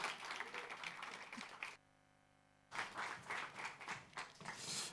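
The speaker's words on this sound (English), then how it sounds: "round of applause for the man" Audience at a startup pitch event in Lisbon claps in a dense, lively burst, cut by a short dead gap, then resuming at similar strength.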